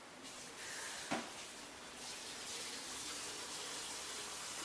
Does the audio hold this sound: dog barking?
no